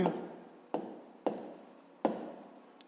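Pen strokes on paper while working a fifth-grade math exercise: a quiet, steady scratching broken by several sharp taps as the pen touches down, close by.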